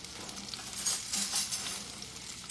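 Scavenged dumpster food sizzling in olive oil in a pan, a steady close frying hiss with a sharp clatter at the very end.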